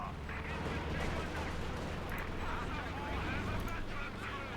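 Company of Heroes 2 battle noise: dull artillery booms and explosions rumble constantly beneath someone commentator talking over the game.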